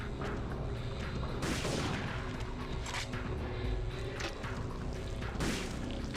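Repeated pistol gunshots and impact booms in the Parasite Eve 2 video game, loud bursts recurring at irregular intervals over a dense, noisy game soundtrack.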